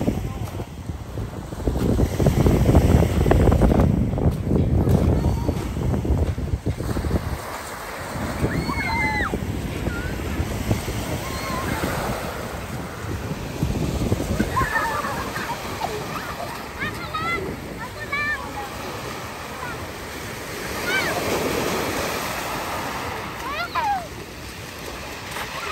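Waves washing ashore at Manila Bay, a steady broad wash of surf with wind buffeting the microphone, while children play in the water and people talk nearby.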